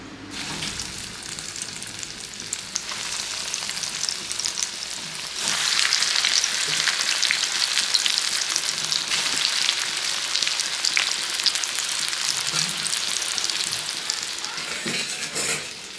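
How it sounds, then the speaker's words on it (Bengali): Prawn chops frying in hot oil, a steady broadband sizzle that swells louder partway through as more pieces go in, continuing without speech. "তেলও গরম হয়ে গেছে, আস্তে আস্তে করে ছাড়বো তেলের মধ্যে।"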